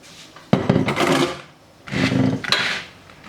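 Pot and utensil clatter as chopped eggplant is tipped into a pressure cooker: two bursts of knocking, scraping handling close by, with a brief pause between them.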